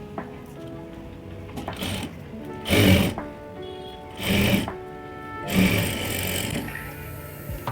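A sewing machine topstitches the folded lining strip of a blouse sleeve in short bursts. Three louder runs of stitching stand out, with a quieter mechanical hum between them.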